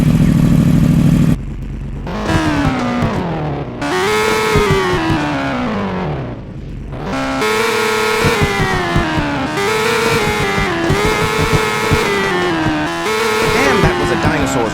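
Ducaro Pentura V4R motorbike in the video game Wheelie District revving hard, a loud engine note climbing and falling in repeated bursts of throttle, close and continuous with short dips between revs.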